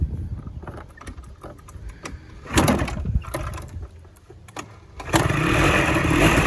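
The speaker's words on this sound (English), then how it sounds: "Let's see if it'll actually kickstart." A Polaris Scrambler 90 two-stroke ATV is kickstarted, with rough sputtering engine bursts that catch and fade, then a louder steady idle settling in near the end, close by.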